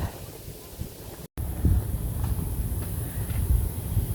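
Wind gusting across an outdoor campsite, a steady low rumble and hiss that rises and falls, buffeting the microphone throughout with a brief dropout near the start.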